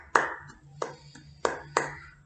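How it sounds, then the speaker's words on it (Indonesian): Scattered hand claps sound from a classroom during a micro-teaching lesson, four short distinct bursts spaced apart, fairly faint over a low steady hum. "Tepuk tangan untuk kalian semua."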